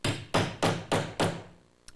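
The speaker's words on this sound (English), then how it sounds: "with the little grommet tool, you place that inside, and then with a hammer" Five loud, evenly spaced metallic blows as a hammer strikes a small grommet tool to set a fabric grommet, each ringing briefly before the next.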